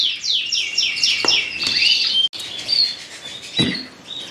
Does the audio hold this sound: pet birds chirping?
yes